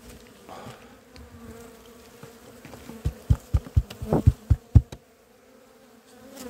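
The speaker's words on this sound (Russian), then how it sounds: "встряхиваем пчелу" Honeybees shaken off hive frames while moving a split into a second-storey box for wintering: a low insect hum runs throughout, broken near the middle by a rapid series of sharp knocks as the frame is jolted, then quiet.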